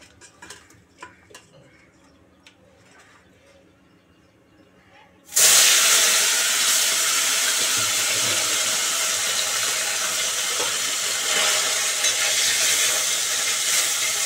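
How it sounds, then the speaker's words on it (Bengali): Parshe fish go into hot mustard oil and burst into a loud, sudden hissing sizzle partway through, following quiet ticking and faint kitchen sounds, then hold a steady crackling fry. "সর্ষের তেলটা গরম হতেই মাছগুলো দিলাম।"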